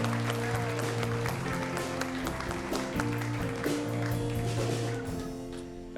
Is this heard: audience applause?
yes